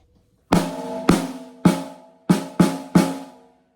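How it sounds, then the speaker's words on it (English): Six loud, ringing hits on an untuned snare drum with a boxy, overtone-heavy rattle, struck alone at uneven intervals, each decaying quickly into silence. "That right there was a violent sound of an untuned snare drum."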